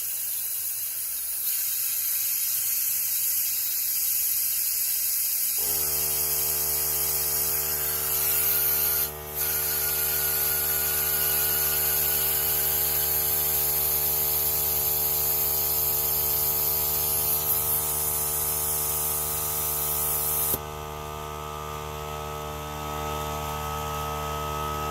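A UView 550000 Airlift cooling system tool pulls vacuum on a car's cooling system with a steady loud hiss of rushing air and a strong droning hum, briefly interrupted once, continuous throughout.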